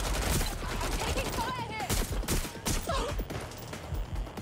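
Rapid gunfire crackles through a firefight in Watch Dogs: Legion, dense bursts of shots repeating almost continuously for several seconds, close and loud, with a few whistling tones mixed in.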